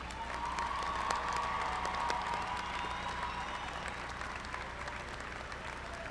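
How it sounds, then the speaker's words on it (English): The audience at a college commencement ceremony applauds steadily as a dense, sustained wash of clapping from a large crowd, even in level for six seconds. "Let us recognize these students with our applause."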